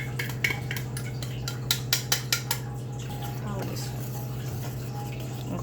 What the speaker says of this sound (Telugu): ట్యాప్ ఎందుకంటే బబుల్స్ రాకుండానా?